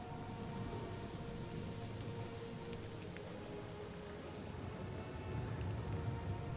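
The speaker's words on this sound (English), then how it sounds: "it's actually raining blood" Steady rain of blood pours down in the Diablo 4 game world, a dense continuous hiss with faint rumbling underneath, swelling slightly louder near the end.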